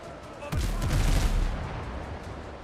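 Cannons fire aboard a ship in the video game Windrose: one loud, deep boom bursts out and rolls into a rumbling decay, while a low background din continues.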